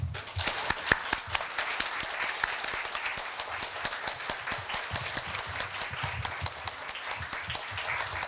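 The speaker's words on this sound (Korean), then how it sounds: "뜨거운 박수를 부탁드립니다" An audience gives warm, sustained applause as guests are introduced at a Korea University gathering, with dense, steady clapping that fills the room from start to finish and no talk over it.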